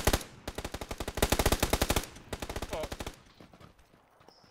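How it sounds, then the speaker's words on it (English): Rapid automatic gunfire from the PUBG battle royale video game, loud bursts of closely spaced shots in quick rhythm that run for about three seconds, then stop, leaving quieter game noise. "getting shot from behind!"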